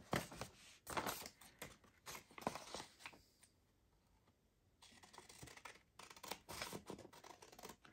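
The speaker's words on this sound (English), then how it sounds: "I need to snip this off here." Scissors snip paper close by while envelopes with added writing pages are being made, a run of crisp cuts, then a brief quiet gap, then more snipping; fairly soft, with no talking.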